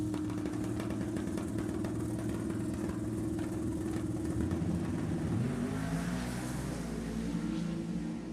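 A drag racing car's engine spools up at the start line of a Sacramento match race. It makes a loud, sustained roar that shifts pitch partway through, with a steady mechanical drone underneath.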